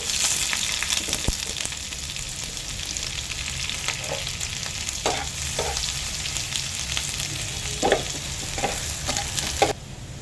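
Onions and green chillies frying in hot oil in a pan for an amaranth-leaf liver curry: a steady, close sizzle with occasional stirring scrapes and clacks, and no voices.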